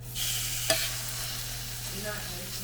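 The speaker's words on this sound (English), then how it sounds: "hear that sizzle" Duck breasts sizzle steadily in a hot frying pan, a close, continuous hiss with a brief sharp tap near the start.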